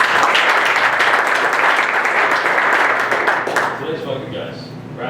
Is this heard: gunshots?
no